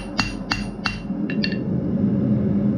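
A hammer strikes hot mild steel on an anvil to flatten it, giving five sharp metallic rings in quick succession over a steady forge roar.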